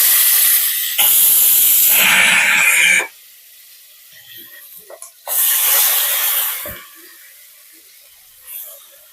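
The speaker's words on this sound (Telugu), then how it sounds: "ఈ మసాలా అంతా తీసి ఇప్పుడు మనం ఫ్రై చేసుకుందాం" Masala with asafoetida dropped into hot oil in a pan for mango rice, bursts of loud hissing sizzle that cut out abruptly, pause, then flare again briefly before fading, no talk.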